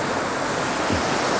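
Sea waves wash onto the beach at Dzhemete, Anapa, in early morning, a soft continuous surf hiss with light wind noise and no talk.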